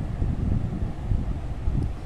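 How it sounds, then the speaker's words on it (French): Outdoor wind buffets the microphone at the Maison de l'eau in Le Mans, a constant low rumbling roar with gusty swells and no voices. "il y a du vent"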